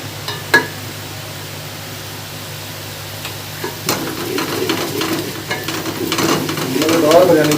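Browned onions sizzling in a pan with half a spoon of turmeric for chicken biryani, a sharp clink then steady frying with scraping stirs that grow louder and busier toward the end.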